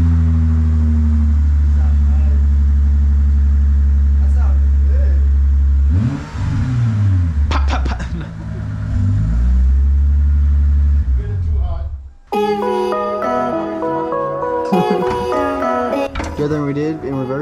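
A Lexus IS350 with an MForce exhaust fires up and revs, with deep engine rumble and rising and falling rev sweeps close by. People talk over it, and later a loud music-like passage takes over.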